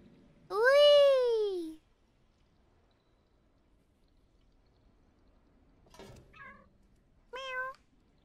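A cat in the video game Stray meows loudly in one long, drawn-out call, then after a pause gives two shorter, softer meows, with near silence in between.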